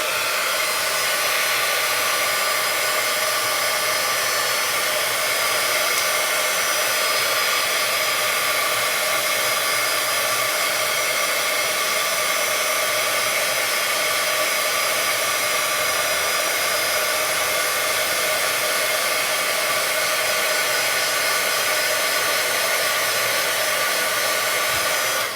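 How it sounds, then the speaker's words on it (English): A handheld heat tool blows steadily and loudly to set waterproof ink on kraft glassine, one continuous whooshing fan roar with a high hiss that never stops, with no voices. "you want to take your heat tool and set it"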